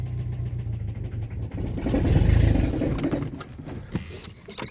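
A 1999 Mazda B2500 pickup truck engine runs as the truck drives after sitting for half a year, a mid-pitched rumble that swells into a louder rev in the middle and settles again, with clicks and rattles over it.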